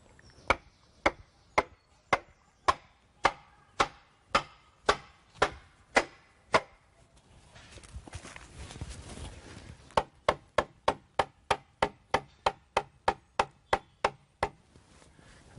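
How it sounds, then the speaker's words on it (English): A wooden peg is knocked into a drilled hole in timber framing for round-log construction, sharp evenly spaced mallet strikes, a run of about a dozen, a short pause with low rumble, then another faster run of blows. "we then knock in the peg."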